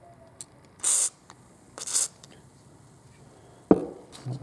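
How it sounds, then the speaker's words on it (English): WD-40 sprayed through a thin nozzle into a graphics card fan, heard as two short close hissing bursts followed by a sharp clunk of handling. "Use the WD-40 nozzle. Let's give it a squirt, see what happens."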